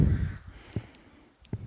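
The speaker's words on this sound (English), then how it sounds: "The birds are back. Sorry if they're making lots of noise." Crows cawing in a park during an outdoor session, two short, sharp calls spaced apart at a moderate distance over a faint, low rumble of background noise.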